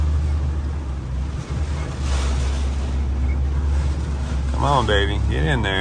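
The wheels of a four-wheel-drive truck spin in flood water during a flash flood with strong wind gusts. A loud, continuous rushing churn and wind roar dominate, and a voice briefly calls out near the end.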